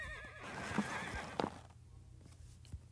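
A horse in a horse-riding video game neighs with a wavering whinny, followed by a few hoof clops and snorts against a soft background hum.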